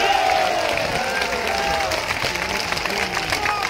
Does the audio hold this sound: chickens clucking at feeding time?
no